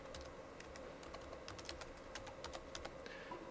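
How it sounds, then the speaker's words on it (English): Keys tapped on a keyboard while a password is entered during wifi setup of a mobile barcode scanner, a quick irregular run of light clicks over a steady low room hum, fairly close, with no talking. "And type in your password."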